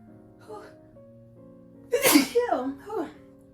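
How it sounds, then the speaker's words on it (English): A single loud, close sneeze bursts out after a faint breath, followed by a couple of brief voiced sounds. "Sorry for the sneeze."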